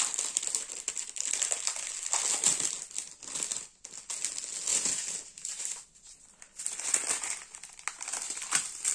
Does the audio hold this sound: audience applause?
no